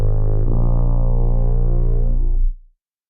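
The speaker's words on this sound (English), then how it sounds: "when you push the joystick in the other direction, you only hear dubstep" A tuba run through the SousaFX dubstep effect gives a loud, thick, buzzing bass tone that holds steady for about two and a half seconds, then cuts off abruptly, with no talking.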